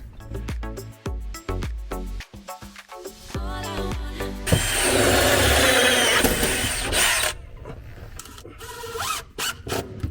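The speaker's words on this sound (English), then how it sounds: "I'm going to make this as a 2-inch hole" A power tool bores a 2-inch hole through a pontoon boat deck, opening with clicks and handling knocks, then a loud close grinding cut lasting a few seconds, followed by scattered rattles and knocks.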